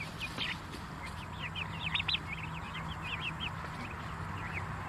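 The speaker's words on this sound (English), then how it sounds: "turkeys I found are very nosy" Turkeys clucking in a run of quick, high chirping calls over a steady low farmyard hum, fairly close and moderately loud.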